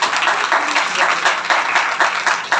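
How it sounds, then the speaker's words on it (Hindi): An audience at a church service claps with enthusiasm, a dense, loud, continuous applause throughout. "जरा जोरदार ताली हो जाए।"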